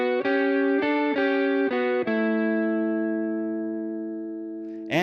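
An overdriven electric guitar riff harmonized in fifths steps through several quick chord changes, then holds the last one as it rings and slowly decays, ending on a short new attack.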